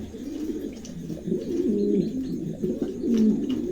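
Pigeons of a tiger breed coo at a pigeon market, overlapping low rolling coos from several birds nearby forming a continuous throaty warble, with faint chirps and no talking.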